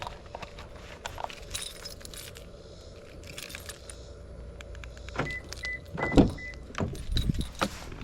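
Inside a truck driving toward a river, a low engine rumble runs beneath intermittent clicks, rattles and bumps from the cab, with louder knocks toward the end.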